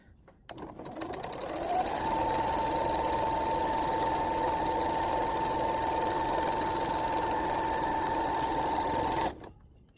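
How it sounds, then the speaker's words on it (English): A sewing machine runs a diagonal basting line across a fabric bowl cozy, a steady continuous whirring hum that holds loud and even for about seven seconds before stopping abruptly. "baste it down with a diagonal stitching line"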